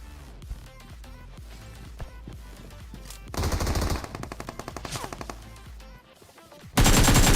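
Rapid automatic gunfire in a battle royale video game, loud bursts of machine-gun fire and sustained volleys close by, with a heavy roaring stretch near the end.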